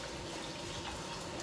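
Tap water pours steadily over rice being washed in a container, a dense, even splashing gush, close and continuous, with no voices.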